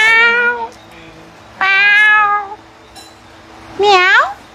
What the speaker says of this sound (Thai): เป็นแมวเหมียวใช่ไหม